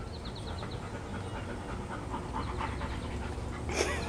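Rapid rhythmic panting from a puppy, a young dog, steady through the whole stretch at close range over low background rumble, with a brief louder burst near the end.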